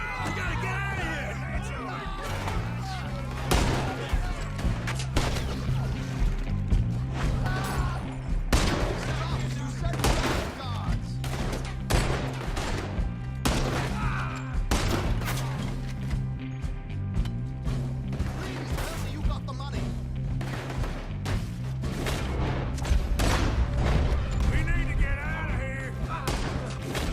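Gunfire in a Red Dead Redemption 2 shootout: dense, rapid shots and volleys crackle almost continuously over a steady music bed, with yelling voices mixed in.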